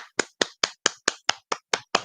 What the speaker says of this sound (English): I'm giving you a round of applause.